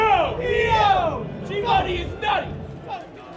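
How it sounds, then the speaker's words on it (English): A crowd at Steel City Smash, a Super Smash Bros tournament, erupts in loud cheers and shouted yells, several excited voices rising in waves and falling off within a few seconds. "The crowd erupts"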